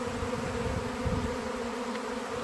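Bees flying into a hive fitted with an anti-hornet grille make a steady, dense buzzing hum close by, constant throughout with no voices.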